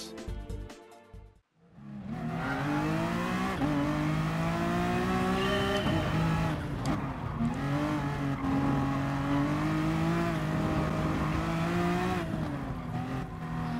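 A Honda NSX Gr3 race car on a circuit in GT Sport roars through sustained high revs, the engine tone rising and falling with gear changes and brief tyre noise, loud and continuous after a short opening.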